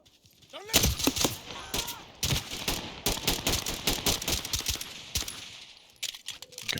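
Rapid gunfire rings out in the tactical shooter Ready or Not on a dark map, with dense bursts of sharp shots cracking in quick succession under a player's voice.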